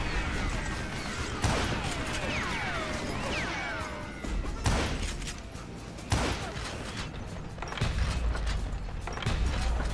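Gunfire in Call of Juarez: Gunslinger: several sharp, loud shots crack out at irregular intervals over a busy backdrop of clattering, ricochet-like whistles and mechanical rattles.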